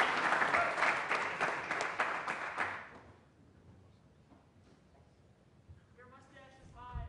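Audience at a talk bursting into applause, a loud dense round of clapping that fades out after about three seconds, followed by quiet room tone and then a person speaking.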